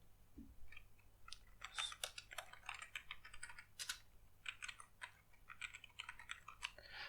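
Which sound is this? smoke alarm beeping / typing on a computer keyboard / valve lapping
typing on a computer keyboard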